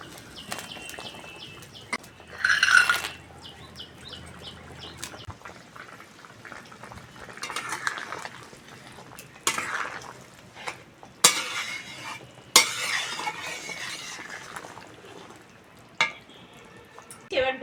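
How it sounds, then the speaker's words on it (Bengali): A thin Bengali bata fish curry simmering in a pot with tomato and bori added, soft bubbling under scattered clinks of a spoon against the pan and a few louder bursts of splashing, with no voices. "ঝোল ফুটে গেছে বন্ধুরা, টমেটো আর বড়িটা দিয়ে দেবো।"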